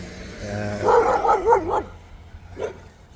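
A dog behind a fence barks and whines loudly at close range, a short burst of yelping barks followed by one more bark after a pause.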